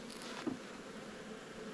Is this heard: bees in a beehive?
yes